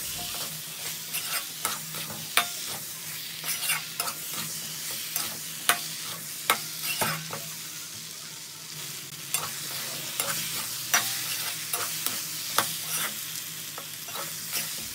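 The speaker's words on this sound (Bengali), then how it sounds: "এবার দিয়ে দেব ভেজে রাখা পটল। দুটো ভালো করে আমি মিক্স করে নেব।" Fried pointed gourd and shrimp being tossed and mixed together in a pan, a continuous sizzle punctuated by frequent sharp spatula scrapes and knocks at an irregular, busy pace.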